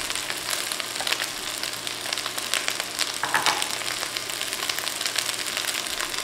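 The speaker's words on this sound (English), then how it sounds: "Now that our okra is cooked about 2 minutes, we're going to go ahead and add our onions." Onions tossed into okra already frying in a hot pan, a loud crackling sizzle that swells briefly as they go in, then keeps spattering steadily, with no speech.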